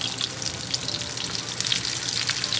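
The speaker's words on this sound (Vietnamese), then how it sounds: "khi mình chiên burger có mấy cái chảo này" Burger patties fry in a pan, giving a steady, close, broadband sizzle that continues evenly without pause.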